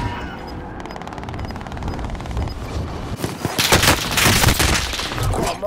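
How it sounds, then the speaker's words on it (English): Sustained gunfire in the video game Call of Duty: Modern Warfare, a dense, loud fusillade of rapid shots that builds into heavier bursts partway through, with some talk mixed in. "I'm taking fire!"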